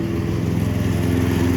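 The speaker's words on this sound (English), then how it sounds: "I know you can hardly hear me over the lawnmower" A lawn mower runs close by, a loud, steady engine drone with a constant buzzing tone and no variation in pace.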